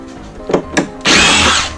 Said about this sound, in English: Yeah, this driver is amazing.